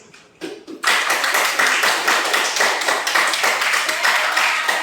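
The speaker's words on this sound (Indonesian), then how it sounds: "tepuk tangan untuk kelompok 2" A classroom group bursts into clapping for group 2 after a couple of faint taps, then keeps up a close, lively run of rhythmic hand claps from several students.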